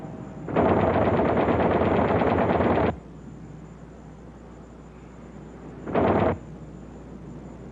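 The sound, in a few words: twin .50 caliber machine guns firing from B-25 Mitchell tail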